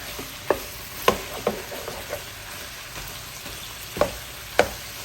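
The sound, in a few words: onions frying in pork fat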